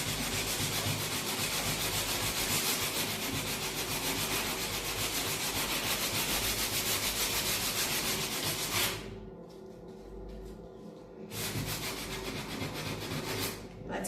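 Hand sanding an old wooden window frame, a steady rasping scrub that runs continuously, breaks off briefly, then resumes close to the microphone.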